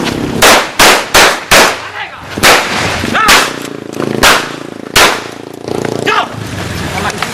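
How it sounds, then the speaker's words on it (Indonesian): Several sharp, loud gunshot-like bangs go off in a rapid cluster as officers fire warning shots, then a few more scattered reports follow amid shouting and commotion. "Petugas juga terus-menerus mengeluarkan tembakan peringatan"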